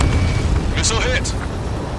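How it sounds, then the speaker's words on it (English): A missile strike explodes in Ace Combat 7, a single loud, deep burst of noise that quickly fades under a short burst of voice. "Missile hit"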